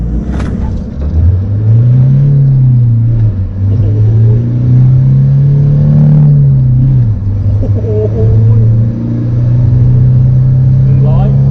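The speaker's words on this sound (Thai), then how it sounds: "กดคันเร่งเยอะน่าจะฟรีทิ้งแน่เลย" A Toyota Revo 2800 single-cab pickup accelerating at full throttle, loud close engine rising in pitch and holding a strong rev for about ten seconds, with a short dip in the middle and people talking over it.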